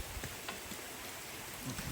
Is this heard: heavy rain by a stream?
yes